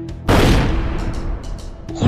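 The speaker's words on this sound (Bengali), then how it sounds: "হঠাৎ করে গুলির শব্দ।" A single loud gunshot sound effect from a Bengali crime thriller audio drama bursts out sharply, then a booming echo rings and decays, with faint follow-up knocks trailing after.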